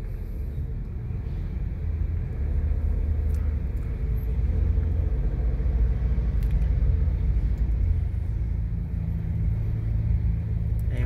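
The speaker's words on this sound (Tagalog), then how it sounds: "ganun pa rin ang traffic dito sa Maynila" Traffic on V. Mapa Street in Manila rumbles steadily at close range: engines idling and moving, a low continuous road drone with occasional louder passing vehicles, and no voices.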